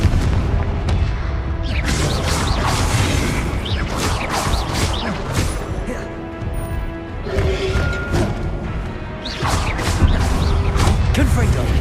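Repeated explosive blasts from the Confringo fire spell in the Hogwarts Legacy video game, loud booming bursts with crackling debris and clanking game effects, several impacts spread across a dense, continuous battle soundscape.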